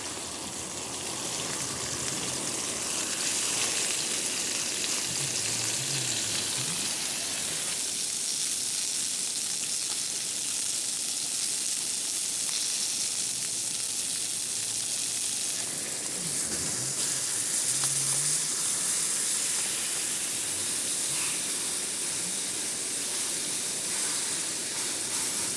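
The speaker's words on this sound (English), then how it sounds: "let that sizzle" Seasoned chicken breasts frying in a pan make a loud, steady sizzle and hiss close to the microphone throughout, with brief quiet speech now and then.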